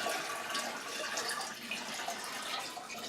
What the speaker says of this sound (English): I'm just pouring in the old aquarium water here, and we're going to put the fish in here now